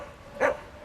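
A single short dog bark or yip, fairly faint and distant, heard outdoors by a lake in a city park.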